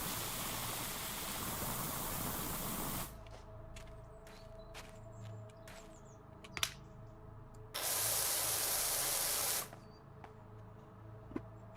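A pressure washer in PowerWash Simulator sprays soap in two loud, steady hissing bursts, a long one followed by a shorter one, with quieter hiss, faint clicks and light knocks in between.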